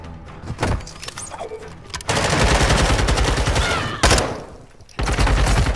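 Gunfire in a multiplayer tactical shooter on the Hotel map, loud close bursts of shots and impacts filling most of the clip, with brief pauses between volleys and no speech.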